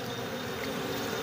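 Honeybees hum steadily and loudly at an outdoor beehive box during the rainy season, a dense continuous buzz with no talking.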